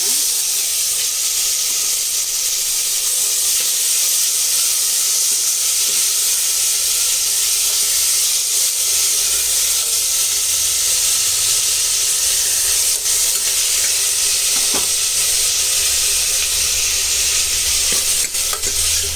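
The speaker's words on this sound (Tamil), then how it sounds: "பொடியாக அரிஞ்ச தக்காளியும் போட்டு இதை நல்லா வதக்கிடணும்" Garlic, curry leaves and chopped tomato sauté in a pot for one-pot rasam rice, giving a steady, close, loud sizzling hiss that runs unbroken throughout with faint stirring.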